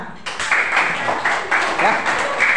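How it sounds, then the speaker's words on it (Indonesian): A classroom of primary school pupils applauding a presentation group, a dense burst of clapping swelling in uneven waves, close and fairly loud throughout. "Kelompok 1 kita kasih tepuk tangan dulu semuanya."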